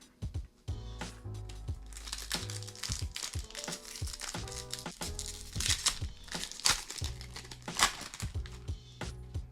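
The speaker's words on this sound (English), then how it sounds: "Still have a little bit of a hard time opening up these Japanese packs" Crinkly foil wrapper of a Japanese Pokemon card booster pack being torn and worked open by hand, close and fairly loud, with repeated crackling bursts and short rips throughout.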